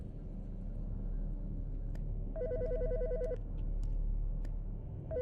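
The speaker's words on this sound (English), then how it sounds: "The fucking phone." A telephone rings inside the Autopsy Simulator video game, a trilling electronic ring with one sustained burst and the start of another, heard clearly over a steady low rumble.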